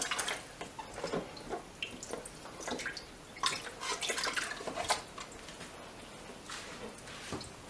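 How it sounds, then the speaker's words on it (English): A Fluval 406 canister filter sponge being rinsed in water, with faint, close splashing and dripping in irregular bursts and no voices. "Rinse the sponge. Rinse this one."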